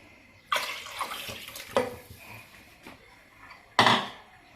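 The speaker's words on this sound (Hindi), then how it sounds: "अब इस टाइम पे हम इसमें पानी ऐड करेंगे।" Water poured from a bowl into a pressure cooker of mutton nihari, giving short splashing gushes, one near the start, smaller pours in the middle and a louder splash near the end, close and moderately quiet.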